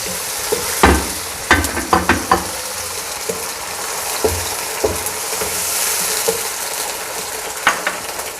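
Garlic and medium tomatoes fry in a pan with a loud, close sizzle and clattering stirs against the metal, busiest near the start and steady throughout, with no speech.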